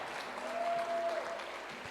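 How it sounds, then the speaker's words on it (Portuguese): Faint, brief applause from a church congregation during a sermon by Pastor Elienai Ramos Corrêa, a soft wash of clapping lasting under two seconds with a thin sustained tone running through the middle. "Aplauda o Senhor Jesus"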